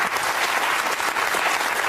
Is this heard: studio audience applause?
yes